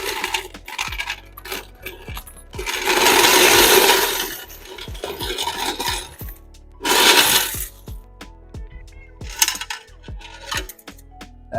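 A heavy load of coins is poured out of a vending machine's cash box during collection. Loud metallic jangling comes in several long pours, with scattered individual clinks and rattles between them, close by.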